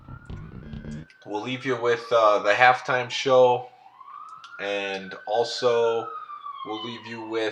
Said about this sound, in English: sorry about the sirens in the background